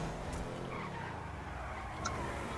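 A car in a video game skids as it spins out, a steady, loud tire-scrubbing hiss lasting throughout with a brief sharper squeal near the end.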